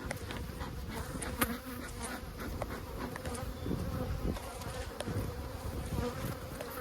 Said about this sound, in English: sorry if you are being bombarded with bees